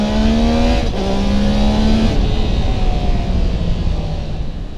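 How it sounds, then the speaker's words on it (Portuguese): Triumph Tiger Sport 660 three-cylinder motorcycle engine revving loudly up close, a rising whine that drops and climbs again across two or three throttle blips, over a constant rough mechanical rumble. "Um ronco 3 cilindros com aquele característico assovio"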